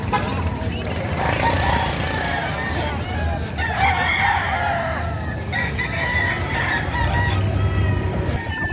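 Roosters and chickens at a livestock auction market crow and cluck repeatedly, several birds overlapping, amid people talking in a busy market hubbub.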